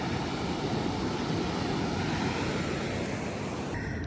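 Surf breaking at Thornhill Broome beach in Point Mugu, California, a steady close wash of waves rolling in with constant roar, some wind buffeting, and a faint aircraft drone in the background.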